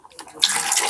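Milk poured into a spiced biryani liquid with rose water and kewra water in a village kitchen, a brief, close splashing pour that starts abruptly after a moment of quiet.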